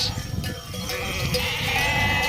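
Akkaraman sheep bleat close by in a farm flock, several overlapping calls rising and trailing off over a rustling outdoor background.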